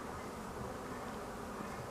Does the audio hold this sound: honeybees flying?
yes